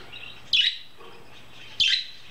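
A pet budgie gives two short, bright chirps spaced about a second apart, close and clear over a quiet room.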